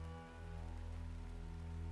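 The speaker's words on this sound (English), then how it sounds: "Rain battered the wooden shingles overhead." Rain drums steadily on wooden shingles overhead, a dense, constant patter under a low sustained hum, with no breaks across the stretch.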